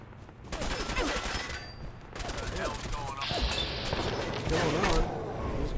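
Enemies fire guns in Fallout 4 in repeated loud volleys and bursts, mixed with a voice talking over the shooting.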